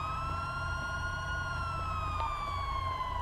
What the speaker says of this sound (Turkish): bölgedeki birimler araçların sirenlerini kapatalım